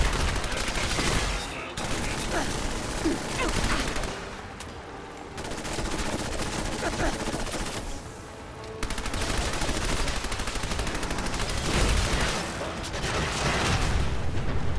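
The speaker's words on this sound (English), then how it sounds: "This is my robot destroying gun." Rapid bursts of gunfire come from a robot-destroying gun in Fallout 4, loud, dense volleys of automatic shots that break off briefly several times before resuming, with faint game sounds beneath.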